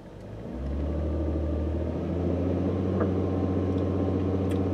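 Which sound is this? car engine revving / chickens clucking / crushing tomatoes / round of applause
car engine revving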